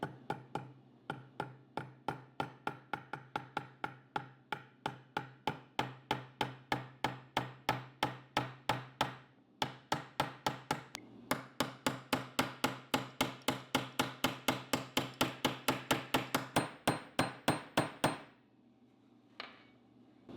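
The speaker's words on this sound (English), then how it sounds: "To start the pins, I do like to use a brass hammer just to minimize the chances of marring the slide." Steady metallic taps of a brass hammer driving a pin into a SIG Sauer P226/P229 pistol slide, dozens in a row at an even pace, sharp and close, with a short pause midway before a quicker run that stops near the end.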